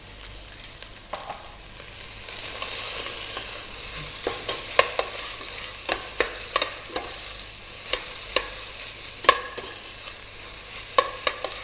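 Onion, basil and garlic fry in a pan with a steady sizzle, while a utensil stirs and scrapes in repeated sharp clicks and knocks over the continuous crackle, close and clear with no talking.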